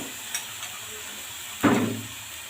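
Ginger and garlic paste hits a hot frying pan with a sudden loud sizzle that then settles into a steady frying hiss, after a couple of faint clinks.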